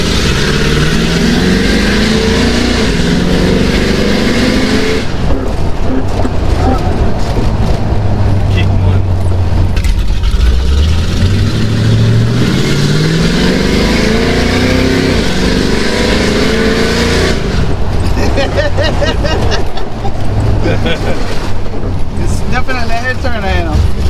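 A car engine revs loudly and close by, its pitch climbing and falling repeatedly in long throttle sweeps over a steady rumbling idle.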